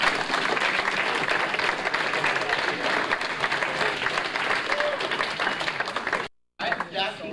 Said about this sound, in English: I'd like to give all the adults in the room a big round of applause